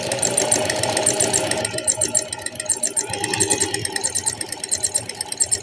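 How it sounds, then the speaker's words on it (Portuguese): A domestic sewing machine fitted with an overlock presser foot runs an overlock stitch, a rapid mechanical whirring and rattling at close range that eases and pulses toward the end. "Vou fazer um pouquinho aqui no ponto de overlock e o restante no zigue-zague."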